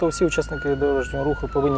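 A police patrol car siren wails steadily at moderate volume beneath continuous close male speech that runs the whole time.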